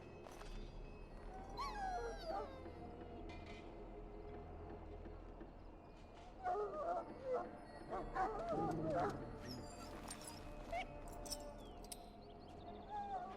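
A dog in the Dragon Age: Origins game whimpers and gives short yips and barks, scattered across the scene, while people talk over it.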